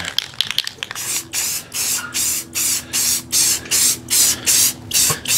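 Close bursts of an aerosol spray can hissing in even, regular passes, about ten short sprays with brief gaps, after a few clicks and rattles at the start.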